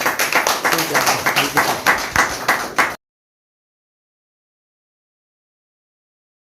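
An audience claps in a steady, rhythmic burst for roughly three seconds before the sound cuts off into silence.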